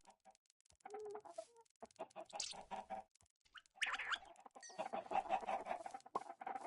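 Chickens in Minecraft cluck and bawk in short bursts, a few separate calls spread unevenly with brief silences between, close and fairly quiet, with some higher squawks near the end.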